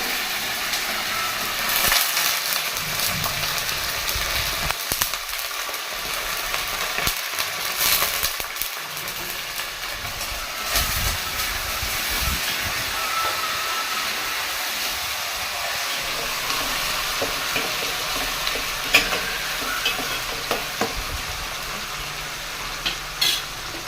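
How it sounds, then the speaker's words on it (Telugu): Mint leaves sizzle and crackle in hot oil tempering for a fish curry, a continuous loud frying hiss with occasional stirring scrapes and no talk. "పుదీనా అనేది ఈ తాలింపులోనే వేసేసుకోవాలి"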